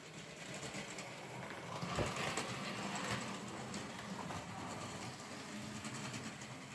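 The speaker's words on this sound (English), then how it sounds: "build a track and watch a train go around it." Model railway train running around its track, a faint continuous whirring rumble with light rail clatter, steady and unbroken throughout with no talk.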